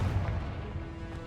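Confringo fire spell blast in the Hogwarts Legacy video game, a short booming burst with a rumbling low-end tail, fairly loud and brief.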